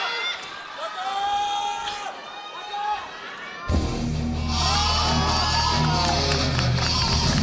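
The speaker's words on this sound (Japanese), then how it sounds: "ディワ有明がまたひときわ大きな歓声に包まれました" A wrestling crowd in a Tokyo arena roars and cheers as a wrestler's entrance theme starts booming, loud sustained whoops and music swelling abruptly after a commentator's voice over quieter crowd noise.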